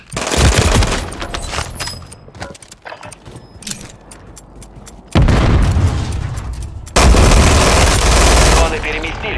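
Gunfire in the Call of Duty Warzone video game, with loud rapid shots, bangs and explosions crowding together and swelling into dense sustained bursts. A voice can be heard shouting underneath.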